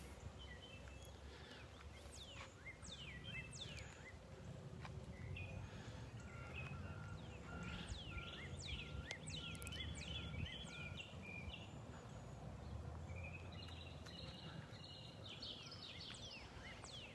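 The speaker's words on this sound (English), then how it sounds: "Hearing all the birds chirping in the morning" Many small birds chirp and trill in the distance over a steady low outdoor rumble, calls scattered across the whole stretch, on a morning in North Naples, Florida.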